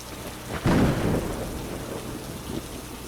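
Steady rain patters down while a low rumble of thunder rolls in briefly, then fades back into the hiss of rainfall.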